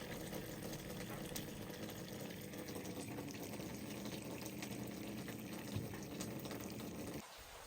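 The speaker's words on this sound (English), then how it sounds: "They are washed with salt, rinsed, then filled with water." Water runs steadily into indoor hatchery tanks used for catfish spawning, a dense, continuous gushing rush that stays even and loud before dropping off abruptly near the end.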